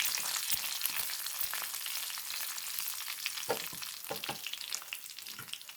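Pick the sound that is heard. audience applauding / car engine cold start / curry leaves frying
curry leaves frying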